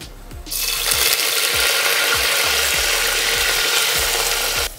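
Onions, curry leaves and green chilies hit a pan and at once set off a loud, dense frying sizzle that holds steady, with low knocks recurring underneath.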